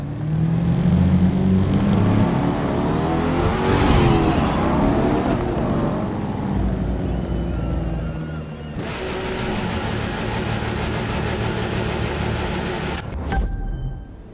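Race car engine in The Crew 2 racing game, a loud continuous roar with shifting revs and a sudden change in tone partway through, ending with a brief clunk.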